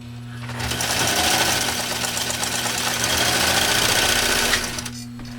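A fully restored Pfaff 332 German sewing machine with an all-metal walking foot runs steadily for several seconds, a loud, close, rapid mechanical stitching hum with knocking, and no talking.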